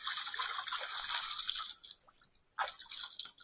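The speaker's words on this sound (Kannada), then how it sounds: "ಬಂಡೆ ಕೆಳಗಡೆ, ತುಂಬಾ ಚೆನ್ನಾಗಿದೆ ನೀರು" Water runs from under a rock at a hillside shrine, a bright steady rushing splash that breaks off into sparse drips and trickles before resuming.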